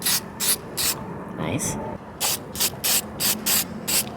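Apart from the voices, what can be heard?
spray paint can spraying over rust on car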